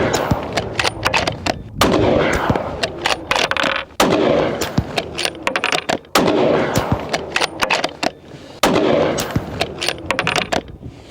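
Rifle shots crack out one after another for a shot group, sharp and loud, each with a booming echo tail, spaced roughly a second or two apart with no talking.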